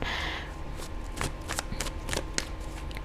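Tarot cards are shuffled and drawn during a Thai love-horoscope reading, with a steady riffling rustle broken by several sharp card snaps, close and fairly quiet, no talking.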